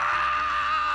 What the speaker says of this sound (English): His screams resounded throughout the cell.